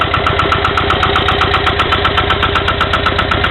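A restored Pasquali articulated tractor engine idles nearby, loud and steady with a fast, even knocking pulse and mechanical vibration throughout.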